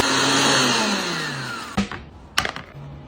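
A blender whirs loudly as it purees blanched parsley with grapeseed oil, a steady high motor roar for nearly two seconds that winds down and stops, followed by a couple of sharp clicks or knocks.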